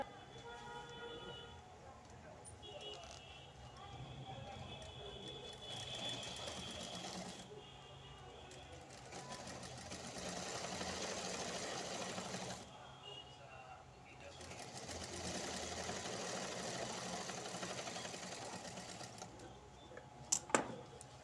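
A domestic sewing machine stitches lace onto a blouse sleeve, running in long steady whirring stretches that briefly stop and restart, fairly quiet throughout.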